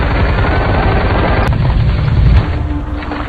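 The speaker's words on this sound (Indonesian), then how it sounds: "Dengan aba-aba dan tembakan senjata mesin, pasukan sniper Ukraina pun melesatkan tembakannya" Machine gun fire in a war film about snipers, a dense, loud, continuous rumble of rapid shots and booms that thins out slightly toward the end.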